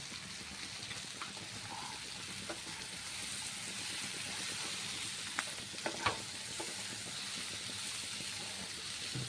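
Cashews and raisins stir with cumin in a frying pan, a quiet, even sizzle with occasional sharper scrapes and clicks from the spoon, heard alone with no talking.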